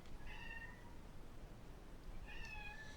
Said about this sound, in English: If you hear a meowing,